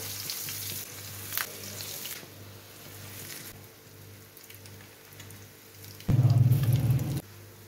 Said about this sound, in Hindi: फ्राई करने के लिए तो ये तेल गर्म हो गया, तो अब डाल देंगे टिक्कियाँ।